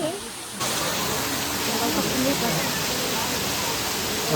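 After a quiet start, a steady broadband rush of flowing water begins and continues loudly, like a nearby stream or outlet.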